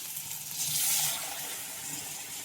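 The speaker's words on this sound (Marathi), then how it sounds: "आता पाणी ओतून घ्यायचं आहे" Water is poured over a dusty plant to wash it, a soft splash that swells for a moment and then fades into a quiet trickle.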